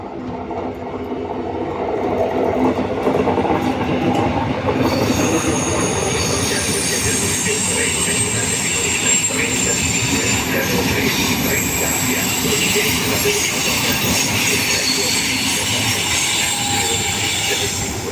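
An Intercity train arriving at Padova station, a loud, steady rumble of wheels on rails with high squealing running throughout, close by and continuous, faint voices mixed in.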